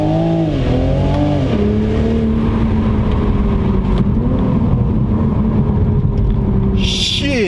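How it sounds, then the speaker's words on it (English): A 2020 Toyota GR Supra engine revs and pulls hard with rising, falling harmonics, loud and close throughout, heard from inside with the window down; a brief high whine appears near the end. "So you heard the sound of the Supra."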